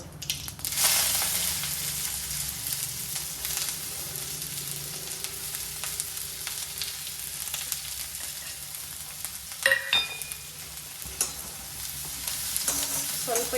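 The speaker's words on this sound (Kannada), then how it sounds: "ಸ್ವಲ್ಪ ಸಾಸಿವೆ ಹಾಕಬೇಕು ಚಟಪಟ ಅಂದ ತಕ್ಷಣ ಈರುಳ್ಳಿ ಹಾಕಬೇಕು" Mustard seeds crackle and sizzle in hot oil for a North Karnataka-style oily brinjal curry, a steady dense spatter running throughout with a few sharper pops and clinks near the end, and no voices.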